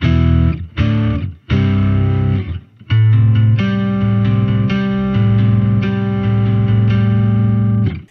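A bass guitar strums chords through a POG octave pedal, giving a huge, thick tone. A few choppy stabs open the passage, then longer ringing chords sustain loudly.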